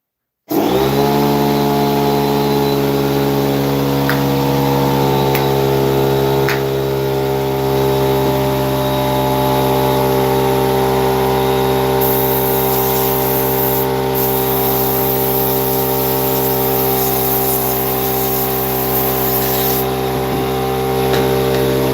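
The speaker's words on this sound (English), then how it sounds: "I'm going to throw on the air compressor for just a second. It's going to get loud, so heads up." An air compressor in a woodworking shop starts abruptly and runs loud and steady, a constant motor hum with strong droning tones and a hissy upper layer that continues without pause.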